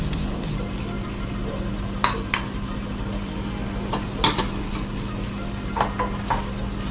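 Buttered sweet corn with mozzarella cheese being stirred in a pan, a steady sizzle with a few light utensil scrapes and clicks scattered through, close and moderately loud with no voices.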